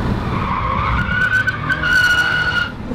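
Tires on a 2012 Volvo S60 T6 R-Design street car squeal in a sustained, high whine during wheel spin, over a loud engine roar, close and without talk.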